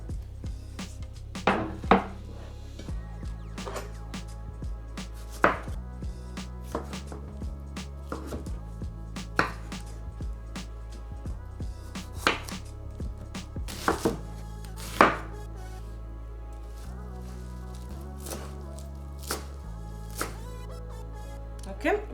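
Ingredients for huevos rancheros sauce being chopped with a knife on a board, a long run of irregular, close, sharp blade taps with short pauses, moderately loud; faint talk and light kitchen clatter beneath.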